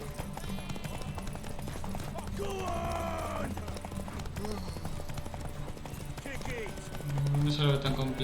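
Horse hooves clip-clopping at a run in The Witcher 3, a steady rhythmic patter under game music and a talking player, with a brief whinny-like sound near the end.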